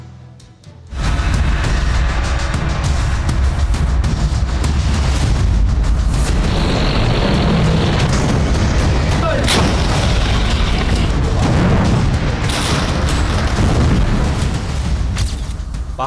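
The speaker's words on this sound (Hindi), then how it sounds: "पहाड़ियों के बीच बारूद बरसाने वाली तोप गुर्रा रही है।" Artillery cannon fire among hills rumbles as a continuous barrage of deep booms and blasts, loud and dense, with scattered sharper bursts.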